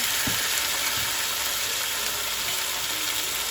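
Chicken pieces fry with spices for biryani, a dense, steady sizzle and crackle of hot oil with a few soft stirring knocks, close and continuous with no voices.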